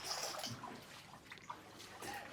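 Flood mud being washed out of houses in a submerged neighbourhood: faint, scattered trickling and light splashes of water, soft and somewhat distant, with no talk.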